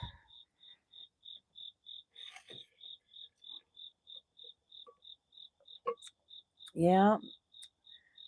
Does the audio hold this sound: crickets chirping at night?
yes